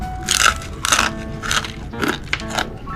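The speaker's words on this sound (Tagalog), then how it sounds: "napakalutong, parang chicharon" Crunchy deep-fried chicken intestine being eaten, loud close crisp crunching bites in a rhythmic series of about six chews, each with a bright crackle, without talk.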